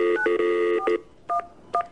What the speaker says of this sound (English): calling on the telephone